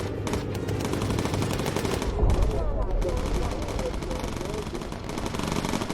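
Bomber turret machine guns in the video game Bomber Crew rattle in sustained rapid bursts, dense and continuous, with a player talking over the gunfire.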